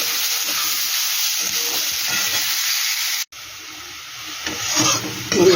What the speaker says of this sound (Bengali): এবার দিয়ে দিচ্ছি পেঁয়াজ। পেঁয়াজটা কিন্তু আমার বেশ সুন্দর লাল লাল করে ভাজতে হবে।